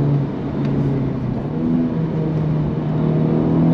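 A Honda Civic Type R GT engine hums steadily from inside the moving car, blending a low droning tone with road rumble at an even level.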